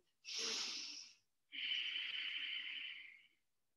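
Two long, loud breaths during a seated twisting yoga pose with palms pressed together, a shorter rushing inhale followed by a longer, steady exhale, close and alone with no talk.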